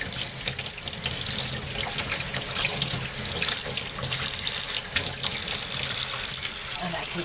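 Tap water runs steadily over a dog's fur as it is rinsed, a continuous close splashing hiss with slight shifts in flow and no talking.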